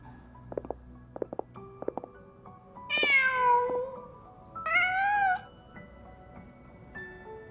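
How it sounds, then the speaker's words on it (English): A cat in the Genshin Impact game meows twice, with a longer drawn-out call followed by a shorter one, heard clearly over a quiet background and a few soft clicks. "Just a cat."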